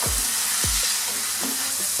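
Chopped medium onion stirred into chicken samosa filling in a hot pan, a steady sizzle broken by four or five low scraping strokes of the spoon at an uneven pace.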